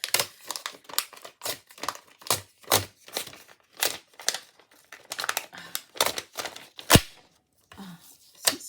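A material is torn and crinkled as a tearing test on a newly bought item, making a rapid series of sharp, close rips and rustles with brief gaps, one especially crisp snap near the end.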